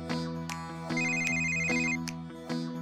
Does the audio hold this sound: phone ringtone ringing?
yes